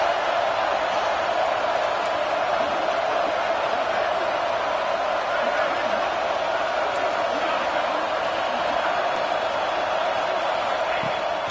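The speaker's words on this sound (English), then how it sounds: "This crowd rising up, sensing that its defense needs some help." A stadium crowd in a football video game roars steadily, a broad, continuous wash of noise that stays loud and even throughout with no breaks.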